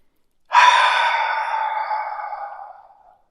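A single long, deep exhale at the start of a guided relaxation, close and clear, fading gradually over about two and a half seconds with silence around it.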